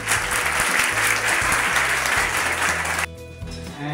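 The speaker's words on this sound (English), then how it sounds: "So please welcome with a huge round of applause." Audience at a school gathering of an educational group applauding to welcome a speaker, loud dense clapping under a low sustained musical drone, cutting off abruptly near the end as the music continues alone.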